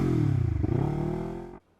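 A Lexmoto LXR380 motorcycle fitted with a performance exhaust and ECU tune accelerates hard, a loud steady engine roar climbing through the revs before cutting off abruptly into silence.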